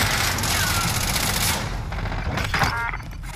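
In Warzone, a PPSh submachine gun fires a dense automatic burst, then after a short lull a few more rapid shots ring out, loud and close.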